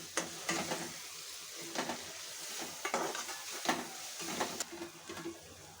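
Masala with Kitchen King spice mix, red chilli powder, turmeric and dried red chillies sautés in a pan for a green bean dish, a soft hissing sizzle under repeated scraping stirs of a spoon.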